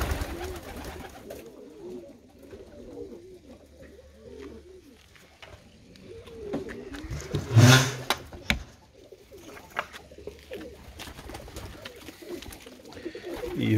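Ornamental pigeons coo steadily in a loft where most birds are sitting on eggs and young, a continuous soft murmur of low calls from several birds at close range, with a brief louder rustle or flutter partway through.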